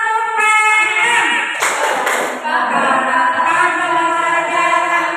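A group of people doing a chanted Tepuk PM clapping routine, with voices calling out in rhythm and a short burst of sharp claps in the middle.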